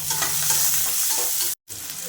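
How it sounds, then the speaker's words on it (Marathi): Onion sautés in hot oil with a bit of fine salt, giving a loud, bright, continuous sizzle with stirring clatter, cut by a brief dropout before it resumes. "गुलाबी रंग येईपर्यंत आपल्याला कांदा छान परतून घ्यायचा आहे."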